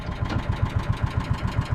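A 25ft Parker boat's engine idles roughly, with a steady, uneven chugging pulse repeating at close range and no voices.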